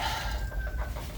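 Domestic chickens clucking softly in a steady low murmur with a faint thin call over a constant background hum.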